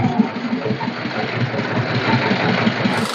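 A ferry boat engine idles at a river ghat on the Bhairab River, giving a steady, close, low rumbling throb with a faint knocking pulse and no talk.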